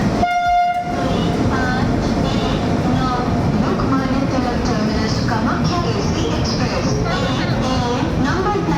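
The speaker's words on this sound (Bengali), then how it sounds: "Kamakya AC Express is arriving on platform number 1A." The Kamakhya AC Express pulls into a platform as a loud rail horn blasts at the opening, then steady rumbling and rattling of the cars continue, with a crowd murmuring throughout.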